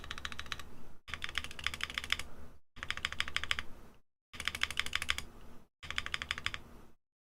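Typing on a Neo Ergo ergonomic keyboard with stabilizer rattle, close, rapid clicking keystrokes in five bursts separated by short silent pauses.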